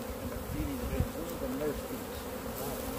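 Steady buzzing of many honey bees close by at a bee farm's hives, a continuous droning hum with individual bees weaving in and out of the swarm.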